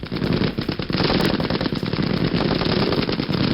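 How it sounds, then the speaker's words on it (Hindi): Sustained automatic gunfire from a gold-plated gun at the Grozny firing range in Chechnya, a loud, dense rattle of rapid shots running continuously without pause. "यहां पर गोल्ड प्लेटेड गन से गोलीबारी कर रहे हैं"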